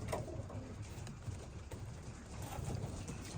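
Racing pigeons in a loft holding about sixty birds, including young ones, give soft low cooing over a steady murmur of room noise, faint and continuous throughout.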